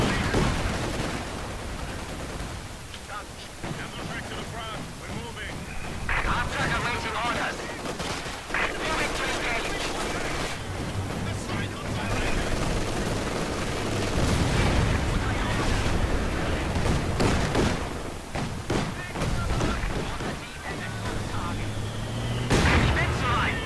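Dense gunfire and artillery bursts from units in the VR game Company of Heroes by IronGrip, loud and continuous with heavy bangs and rattling volleys, while players talk throughout.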